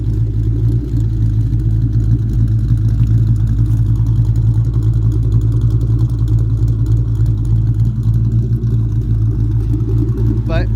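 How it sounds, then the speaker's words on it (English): A cammed 2004 Mustang GT New Edge with custom grind cams idles with a loud, steady low rumble and a lopey, choppy pulse, close and continuous throughout with no talking. "You can hear those custom grind cams now."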